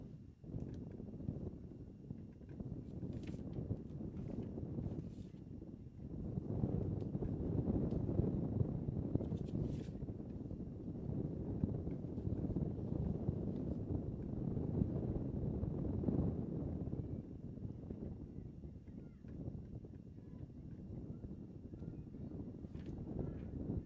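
Steady wind buffeting a microphone outdoors at a girls' high school soccer final in Larkspur, a continuous low rumble with gusts swelling and easing, no voices, occasional faint distant knocks.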